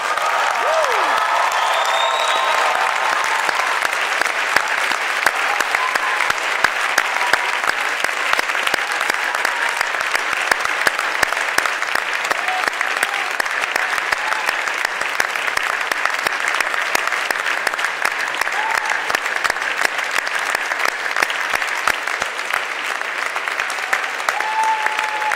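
Graduation ceremony audience at the University of Ottawa applauding and cheering, a loud, dense wall of clapping with crowd whoops that holds steady for the full stretch.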